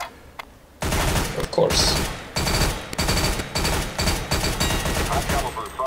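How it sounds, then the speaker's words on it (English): Video game gunfire at a training target: rapid automatic bursts, loud and close, in several runs separated by brief gaps, with a short spoken remark at the start. "Fire in short, controlled bursts"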